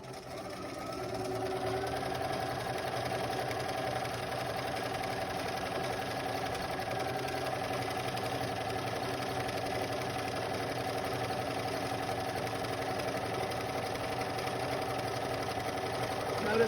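A sewing machine quilts steadily at constant full speed, a continuous close mechanical whir with an even buzzing rhythm that never changes pace throughout.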